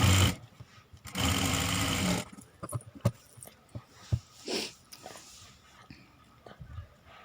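Sewing machine stitching blouse fabric, joining cloth on both sides with a topstitch, in two short stretches: one loud steady run near the start, then a softer brief burst amid small clicks and handling noises.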